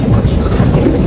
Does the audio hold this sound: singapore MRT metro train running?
yes